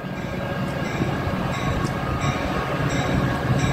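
A passenger train hauled by two F40PH-2 diesel locomotives rumbles past close by, a loud, steady roar of engines and wheels on rails with faint squeals above it.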